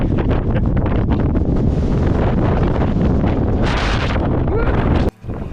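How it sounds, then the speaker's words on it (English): Strong wind on Pen y Fan buffets the microphone with a loud, continuous roar and rumble, and a voice cries out briefly over the gusts. "Windy!"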